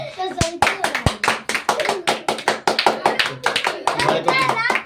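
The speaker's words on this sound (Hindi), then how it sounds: "ताली बजाओ" Children clap their hands in a classroom math lesson, a run of sharp, rhythmic claps repeating close by, with children's voices mixed in alongside.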